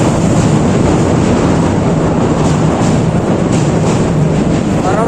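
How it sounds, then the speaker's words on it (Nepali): Trains run on elevated tracks overhead in Japan, producing a steady, continuous rumble with faint rail clatter and no voices. "माथिपट्टि ट्रेनहरू कुदिरहेछ"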